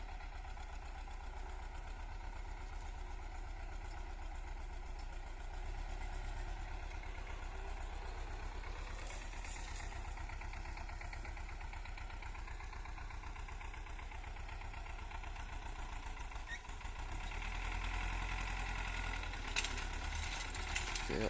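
An MTZ-82.1 tractor engine runs steadily nearby during cultivation after ploughing, with a low, knocking rumble and constant vibration, swelling slightly louder near the end.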